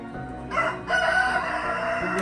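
A rooster crows once on a farm setting, a single fairly faint cock-a-doodle-doo call heard alone with no talking.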